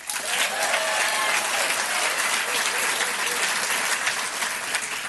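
At a State of the City address in New Rochelle, an indoor audience applauds in a dense, even, sustained wash of clapping with no voice heard.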